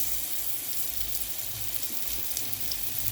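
Chicken chapli kababs fry in a small amount of oil, giving a steady, close, even sizzle and hiss with no talking over it.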